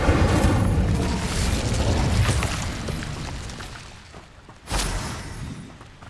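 A fiery Incendio spell blast erupts in the Hogwarts Legacy game, a loud booming roar of flame that rumbles and fades, followed by another sharp burst.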